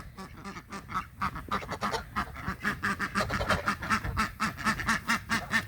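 Ducks on a farm quack busily and continuously, several birds close by calling in quick overlapping bursts with a few goose-like honks mixed in, and no talking.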